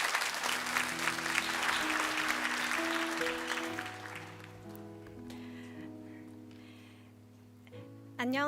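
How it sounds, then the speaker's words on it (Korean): A church congregation applauds to welcome a young woman coming forward to give her testimony. A full wash of clapping fades out over several seconds while soft sustained keyboard notes play underneath and carry on after it. "우리 큰 박수로 우리 자매를 좀 초대해 주시면 감사하겠습니다"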